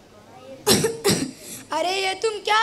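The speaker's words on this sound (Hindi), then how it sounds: "धुएं से मुझे खांसी हो रही है, हटाओ इसे।" Coughing from cigarette smoke in a school stage drama about intoxication: two sharp, close coughs, followed by a raised voice speaking.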